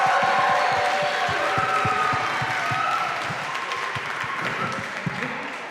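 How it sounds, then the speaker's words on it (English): A conference audience applauds a company president and CEO as he comes onstage, steady dense clapping sustained for several seconds with a few cheers mixed in, gradually easing off toward the end. "Please give him a round of applause."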